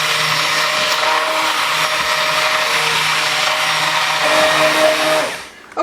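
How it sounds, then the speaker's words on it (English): A hand blender whirs steadily while mixing soap batter, a loud, constant motorized drone with slight pitch shifts, running alone until it cuts off at the end. "If you do it with a hand blender, it takes probably less than 5 minutes"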